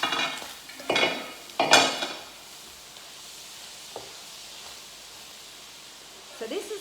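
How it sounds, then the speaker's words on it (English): Cabbage stirred in a pan on the stove, with a few scraping, clattering strokes of a utensil near the start, then a quiet steamy background and faint knocks. "I'm just going to give my cabbage a stir."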